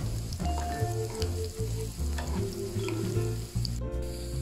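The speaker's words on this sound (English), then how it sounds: "I'm sauteing this first before putting the garlic so that the garlic doesn't burn." Large onion slices sauté in a pan for shakshuka, a steady close sizzle with intermittent stirring scrapes and utensil taps, over a low continuous hum.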